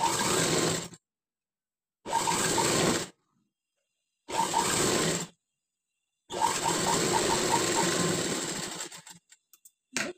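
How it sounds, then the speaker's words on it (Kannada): A sewing machine stitches patchwork fabric in four bursts of rapid, even whirring, separated by silent pauses, with the last run longest and trailing off into a few clicks. "ಕಾಲ್ ಇಂಚ್ ಮೇಲೆನೆ ಸ್ಟಿಚ್ ಹಾಕೊಳ್ಳಿ."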